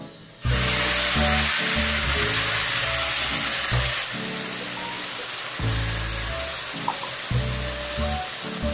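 Green chili and garlic paste hits hot oil in a pan for pakora kadhi, giving a loud, steady sizzle right from the start that settles slightly but crackles continuously throughout.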